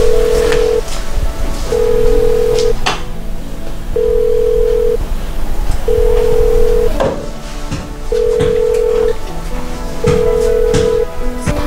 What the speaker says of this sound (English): Why is he not picking up his phone now?